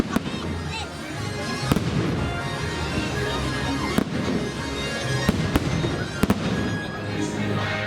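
A night fireworks show at a park booms and crackles continuously, with sharp bangs and dense popping filling the air while people talk nearby.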